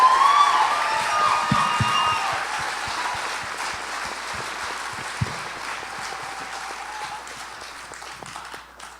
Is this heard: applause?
yes